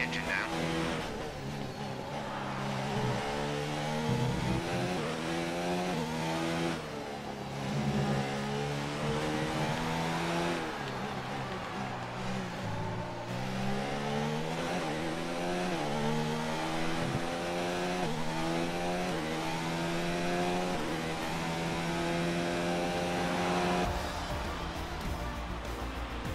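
Formula 1 race car engine in the F1 2019 video game at the Australian Grand Prix, a continuous loud whining drone with rising and falling pitch through gear changes, with talk over it.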